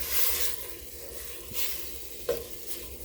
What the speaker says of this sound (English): we're gonna let that saute down for a little bit